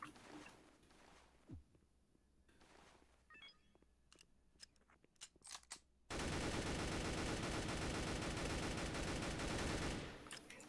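Automatic gunfire in a video game bursts in halfway through as a loud, continuous rattle of rapid shots after a quiet stretch of scattered small clicks and taps, then cuts off near the end.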